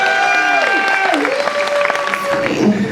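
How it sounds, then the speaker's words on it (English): A theater audience at a horror makeup show applauds and cheers an audience volunteer. A dense wash of clapping runs throughout, with sustained tonal sounds sliding in pitch over it. "Give her a round of applause!"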